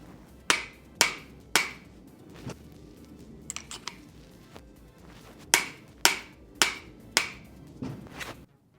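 Bicycle star nut being driven into a Fox Podium fork steerer tube with a guide collar, heard as a series of sharp, loud metallic taps in two bursts with a short pause between them.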